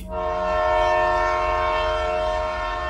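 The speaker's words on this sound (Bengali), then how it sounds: "তখনই সামনের দিকে চাইতেই দেখি সত্যি ট্রেন ঢুকছে" A train pulls into a station in an audio drama, a sustained loud horn or whistle blaring with steady rumbling beneath, close and continuous for the whole stretch.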